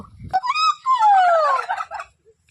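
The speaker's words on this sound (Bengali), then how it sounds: "ওই দেখো আমাদের টার্কি মুরগিগুলি ওখানে রয়েছে" A turkey gobbles loudly and close by, a rapid warbling burst that falls in pitch, then trails off into silence.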